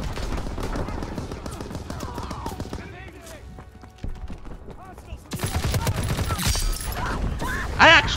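Gunfire in Call of Duty WWII during a push toward German positions, bursts of rapid automatic fire and scattered shots with louder volleys near the end, mixed with game effects.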